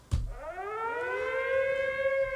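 A wailing siren sound effect triggered from a soundboard button rises in pitch and holds a steady, loud harmonic tone for a couple of seconds, with no talking over it.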